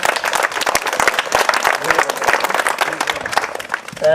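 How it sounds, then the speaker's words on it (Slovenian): Close, loud applause from an audience at a church Mass during a Slovenian summer oratory, crisp individual claps forming an energetic, uneven patter throughout, with faint voices beneath. "En aplavz za njo, bravo."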